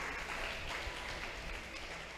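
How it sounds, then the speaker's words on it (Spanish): A church congregation applauds together, a steady wash of many hands clapping at an even, moderate level throughout, with no one speaking over it. "Vamos a darle un aplauso al Señor"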